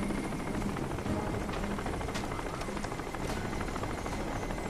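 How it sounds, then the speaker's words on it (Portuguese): A helicopter's rotor chops in a steady, rapid thrum in the video game Crysis, a continuous fairly faint drone throughout with no talking. "Tô ouvindo o helicóptero, cara."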